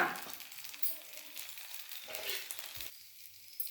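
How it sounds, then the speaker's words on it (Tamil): Adai lentil pancakes, made with young pumpkin, fry in a generous pool of oil, giving off a steady close sizzle and crackle that swells briefly and then settles. "கொஞ்சம் அடைனா கொஞ்சம் நிறைய எண்ணெய் ஊற்றணும்."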